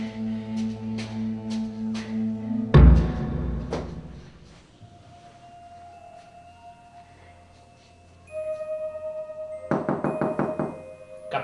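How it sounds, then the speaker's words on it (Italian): Knocks on a door come in quick repeated bursts, loud and close, with a heavy thud and rattle partway through, then a quieter stretch before another fast flurry of rapping. "Non hai sentito il mio toc toc toc?"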